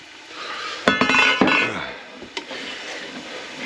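A custom-topped lid set back onto a cooking pot of cornmeal banosh, a cluster of close metallic clanks and rattles with a ringing clink, then a softer knock, quiet room around it.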